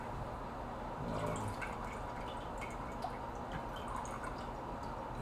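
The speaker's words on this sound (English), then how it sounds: "I'm going to actually squeeze out some of the water here." Water drips and trickles from tofu pressed between two plates, soft wet squishing and patters close by against a steady low background hum.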